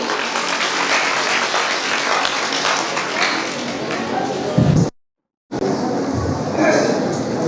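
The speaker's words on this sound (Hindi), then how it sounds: "इनके लिए जोरदार तालियां" Dense, steady crowd applause at a college annual function and prize-giving ceremony, welcoming the municipal council president. It fills most of the stretch, then cuts off abruptly into a brief silence before the clapping resumes.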